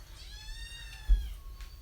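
A pet cat gives a single drawn-out meow, clear and close, rising and then falling, with a soft bump near its end and a quiet household background.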